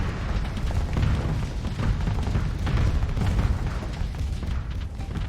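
Spaceship guns and explosions roll continuously in a Starsector space battle, a dense, loud barrage of low booms and bursts with no pauses.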